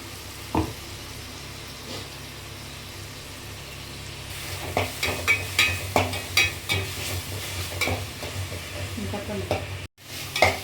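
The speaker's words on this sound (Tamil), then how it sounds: "தக்காளி வெங்காயம் எல்லாம் போட்டு நல்லா வதக்கிட்டு கொஞ்சம் இஞ்சி பேஸ்ட் போட்டுக்கலாம்." Tomatoes, onions and ginger paste are sautéed for chicken curry, a steady frying sizzle that turns into a rhythmic run of scraping stirs midway, loud and close without speech.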